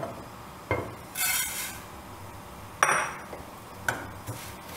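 Vermicelli roasting in ghee in a pan is stirred with a utensil, giving several separate scraping strokes and clinks against the metal, with a faint sizzle underneath and no talking.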